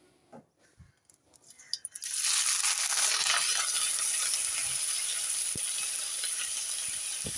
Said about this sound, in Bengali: তেলের মধ্যে আমি পেঁয়াজগুলো এবার দিয়ে দেবো